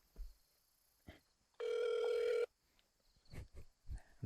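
A telephone rings during a podcast recording, one sustained electronic ring tone of under a second standing out between soft scattered background noises.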